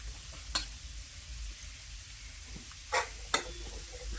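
Onion frying in a pan for a paneer masala gravy, a faint steady sizzle with a few sharp stirring scrapes near the start and end, quiet and close, no voices.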